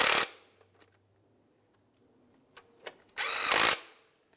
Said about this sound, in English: So now we're going to tighten up these bolts here for that bracket.